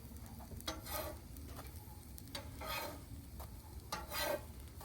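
Breakfast food cooking on a refurbished Blackstone griddle, a soft steady sizzle with intermittent scraping and tapping of a spatula against the flat top, fairly quiet and without talk.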